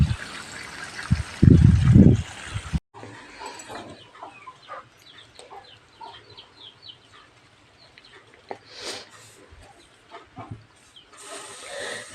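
Irrigation water trickles and flows across a farm field in a soft, steady stream. Birds and farm animals sound faintly in the background, with a louder rustling burst near the start.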